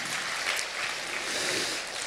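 A church congregation gives steady, continuous applause at a Presbyterian church summer retreat worship seminar, many hands clapping together as a dense, even wash of sound.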